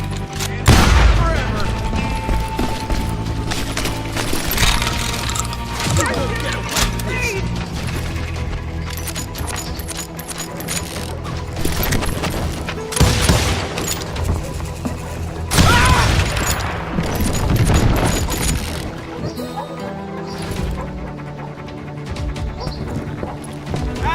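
Shotgun blasts and other gunfire in Call of Juarez Gunslinger, several loud booming shots with crashes and mechanical clatter spread across the scene, mixed with game music and a narrating voice.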